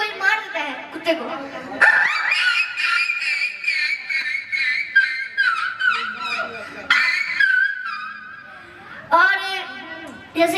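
A person imitates a dog fight with their voice, letting out rapid yelps, growls and barks in loud, overlapping bursts.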